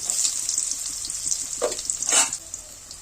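Finely chopped shallots sizzle and crackle steadily in hot oil, with a couple of louder bursts of hissing partway through.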